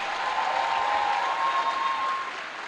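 Convocation ceremony audience in Nigeria applauding a diligent young graduate, a steady, dense wash of clapping from a large crowd that holds evenly and eases slightly toward the end, with a faint sustained tone running beneath it.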